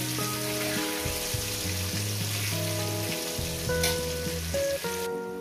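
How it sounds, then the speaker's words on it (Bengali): Potatoes crackle and sizzle steadily in hot oil, a close, continuous frying sound with music playing over it. "আলুগুলো লাল লাল করে ভেজে নেব"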